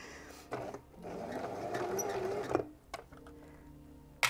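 A sewing machine runs a stitching pass while sewing a garment, its steady mechanical whir rising for about two seconds, then stopping with a few soft clicks and handling noises.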